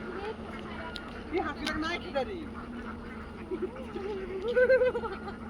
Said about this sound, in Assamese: এই হাঁহবিলাক চাওক,